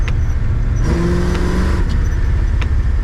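Oldsmobile car driving on a street in second gear, a steady loud engine drone with a rising rev tone in the middle, close and continuous with no talk.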